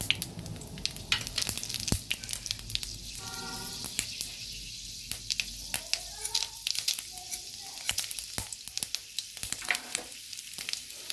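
Panch phoron, a five-spice mix, frying in hot oil while fish-head bottle gourd curry is cooked: a steady soft sizzle and crackle close by, with light stirring scrapes and no talking.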